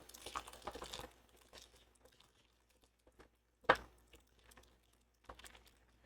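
Plastic TMNT toy packaging is torn open with crinkling and crunching, first in a busy burst of rustles, then a single sharp loud crunch, followed by scattered softer crinkles, close up with no talk.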